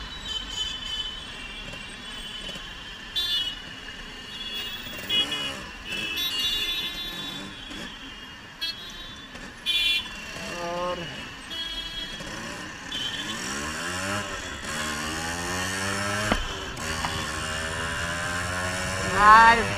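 A Yamaha RX100 motorcycle with a faulty speedometer is ridden on the road, its engine note rising and falling through gear changes in a long, steady run with traffic around it.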